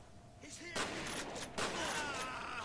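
Gunfire in the horror shooter game F.E.A.R. lands as two sharp, loud bursts about a second apart, each followed by a ringing, rattling tail.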